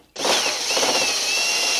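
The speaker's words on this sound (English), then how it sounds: "So I'm going to have to go ahead and drill the holes" A power drill drilling holes for taillight and rear filler cover panel mounting whirs steadily at close range after a brief quiet start, a continuous high motorized whine with no voices.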